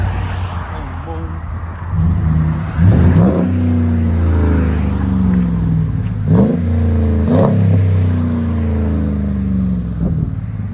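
A 2012 RAM 1500 SLT pickup with a 5.7L HEMI V8 and Magnaflow dual exhaust rumbles nearby with a few repeated throttle blips over a steady low idle, and voices chat intermittently.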